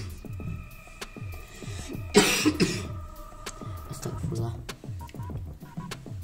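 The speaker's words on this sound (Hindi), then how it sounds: "यहाँ पर मेरे को थोड़ी खांसी हो गई थी।" A single burst of coughing at close range, breaking through a steady background of rhythmic, repeating mechanical clicks and faint tones.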